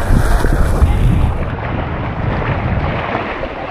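Strong wind blowing near a boat off an island, a loud, steady broadband rush buffeting the microphone with gusts easing slightly after the first moments.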